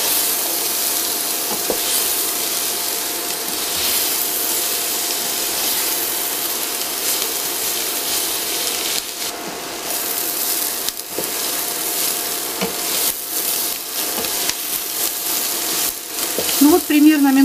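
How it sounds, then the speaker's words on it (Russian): Continuous loud sizzling and crackling of cabbage and onion frying in a hot pan, with occasional stirring scrapes. "Будем жарить с луком."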